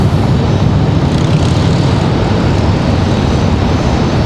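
American Airlines Airbus A321 passing at Raleigh-Durham International Airport, a steady, loud broadband jet roar that holds throughout without a break, no talk over it.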